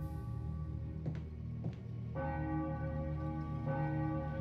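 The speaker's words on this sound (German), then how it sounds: "doch die Glocke schlägt unermüdlich weiter" A church bell in Enigmatis, its mechanism broken yet still tolling, strikes a few slow, resonant rings with long humming decay over eerie ambience.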